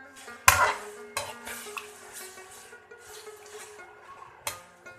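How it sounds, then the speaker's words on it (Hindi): Chicken being fried and stirred in a karahi for Peshawari chicken karahi, with repeated scraping, rubbing strokes of a utensil against the metal pan over a soft sizzle, close up and with no talking. "चिकन वाइट होना शुरू हो रहा है, अब हमने इसको उस वक्त तक फ्राई करना है जब तक ये गोल्डन ना हो जाए।"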